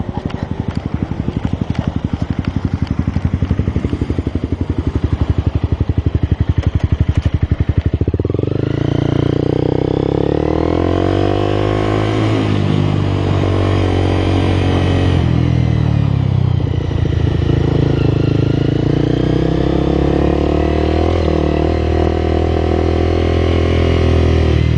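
A motorcycle idling loudly nearby with a steady throbbing engine note, which then shifts and rises in pitch as the bike is moved off the road; there is no speech over it.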